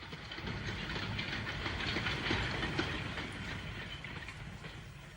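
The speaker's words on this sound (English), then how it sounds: "that little train, which rattles along between Richmond and Broad Street" A small train rattles steadily along the line between Richmond and Broad Street, a continuous close rumble of wheels and carriages with a faint hiss, holding an even level throughout with no voices.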